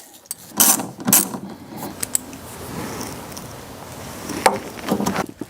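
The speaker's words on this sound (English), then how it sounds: "Now I'll go ahead and bolt it in." Bolting a replacement taillight assembly into a GMC Yukon gives a few sharp mechanical clicks and ratchet-like bursts near the start and again later, with quieter handling noises in between.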